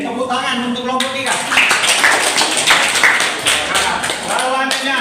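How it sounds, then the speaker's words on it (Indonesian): Classroom applause for a student group at a university teaching session, a broad patter of clapping from many hands lasting several seconds, with voices talking over the start and end. "tepuk tangan untuk kelompok 3"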